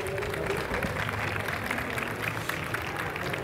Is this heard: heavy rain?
no